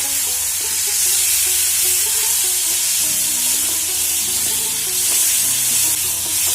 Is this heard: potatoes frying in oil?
yes